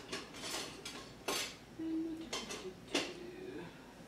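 Metal utensils clink and clatter against dishes in a kitchen while a spatula is fetched, a handful of sharp clanks and scrapes spread across a few seconds, fairly close and moderately loud, with no talking.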